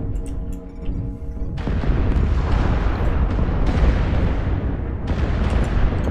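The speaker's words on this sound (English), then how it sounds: "Couple good shots by artillery" Heavy artillery explosions in the MechWarrior Online battle, a loud sustained roar of booming blasts with a fresh burst partway through and another near the end, no talk over them.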